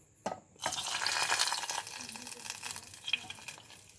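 Heated oil poured over daliya in a pan, a quick splash and crackling burst followed by a rushing sizzle that fades gradually, close and fairly quiet.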